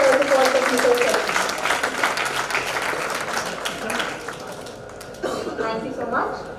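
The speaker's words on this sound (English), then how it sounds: "Let's have a big round of applause for all our winners and all the presenters of all technical sessions." An international conference audience applauds its winners and session presenters, a full wash of clapping that fades slightly toward the end, with voices and a loudspeaker tone heard alongside.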